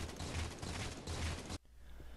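Battle rifle fire in the Halo 4 video game, dense rapid bursts of shots in three clusters, loud and close, cutting off abruptly into quiet.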